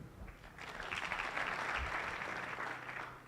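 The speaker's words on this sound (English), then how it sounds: "Let us applaud them." Applause from an audience at an education and leadership congress, a full, sustained round of clapping that builds quickly and tapers near the close.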